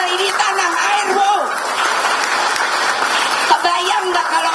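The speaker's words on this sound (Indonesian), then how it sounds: "tepuk tangannya aja nggak meriah" Crowd applause during a politician's speech at a PDIP announcement of regional candidates, a thin and unenthusiastic clatter of clapping that runs continuously under a voice speaking over it.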